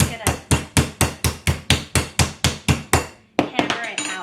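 A hammer pounds chicken slices flat for noodle soup, striking about a dozen times in a steady, evenly spaced rhythm of sharp, close thwacks, followed by a brief pause and a few scattered softer knocks.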